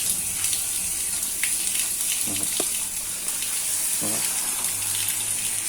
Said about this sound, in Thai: ค่อยๆฉีดนะครับ ไม่ต้องใช้น้ำแรงครับ